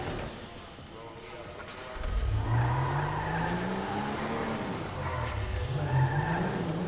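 A car in GTA 5 starts up after a quiet moment and revs, its engine tone climbing and dipping as it accelerates, loud and close, with a touch of tire noise.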